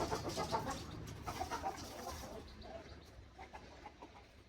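A silkie chicken clucks softly several times, faint and fairly close, with a low background murmur.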